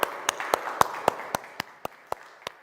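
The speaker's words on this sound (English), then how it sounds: "let's give you a round of applause" About ten sharp hand claps in a steady rhythm ring out from a conference audience, crisp and evenly spaced over a faint applause wash that fades toward the end.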